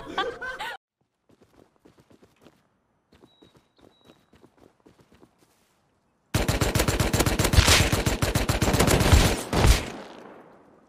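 Gunfire in the online survival game Rust: after a brief voice and scattered faint clicks, a loud sustained burst of rapid automatic fire erupts and runs for several seconds before fading.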